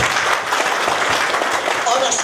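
Short burst of audience clapping at an autumn song gathering and folk ensemble anniversary, steady and fairly loud from a crowd nearby, with voices mixed in.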